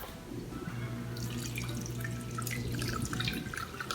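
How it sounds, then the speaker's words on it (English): Water drains and trickles steadily from freshly strained paneer curds, with a soft continuous splashing and dripping that grows busier toward the end, with no voices. "Wait till all the water evaporate, all the water drain out."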